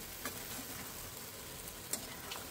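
Peas ghugni simmering in a pan with water and ginger-garlic paste over low heat, a soft, faint sizzle broken by a few light scraping stirs.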